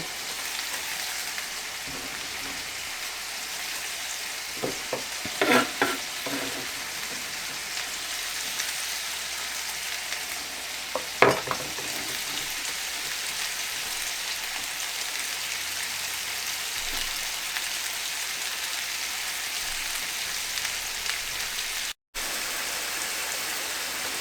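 Onions cooking down in a pan on medium heat, a quiet, steady sizzle like soft rain, with a few brief clatters of stirring.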